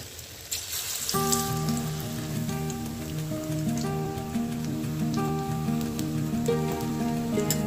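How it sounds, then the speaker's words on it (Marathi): Bhaji fritters for kadhi sizzle steadily in hot oil in a kadhai, a continuous crackling hiss that runs the whole time beneath louder melodic background music. "इथं मी कढीमध्ये सोडण्यासाठी भजी बनवत आहे अगोदर."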